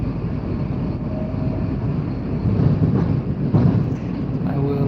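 A Moscow subway train rumbles steadily from inside a carriage, low droning and rattling with swelling clatter, and faint voices murmuring in the background.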